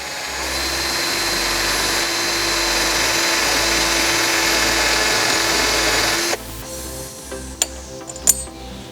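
A power drill bores into a homemade toilet paper holder part made from toilet paper, a loud steady whir lasting several seconds before stopping, followed by a few faint clicks and handling knocks.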